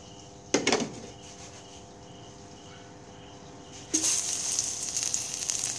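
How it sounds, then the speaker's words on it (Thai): Garlic dropped into hot oil in a hot wok while stir-frying chicken giblets with ginger, giving a sudden loud hiss that fades, then a second burst of steady close sizzling crackle. "ใส่กระเทียมลงไปผัดให้หอมก่อนครับ"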